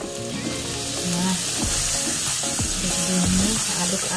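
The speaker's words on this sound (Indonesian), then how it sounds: "Kita aduk-aduk juga bawang putihnya" Garlic frying in a little cooking oil while being stirred in a pan, a steady loud sizzle with repeated scraping and clacking of the utensil throughout, no voices.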